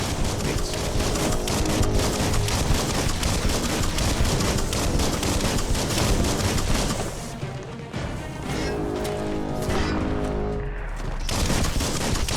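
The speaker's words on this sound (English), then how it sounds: "Bullets everywhere." Dense, continuous gunfire from a mutant shooter game on a PS4 controller, bursts of automatic fire and crashing impacts filling the whole stretch with only a brief dip in the middle, loud and close.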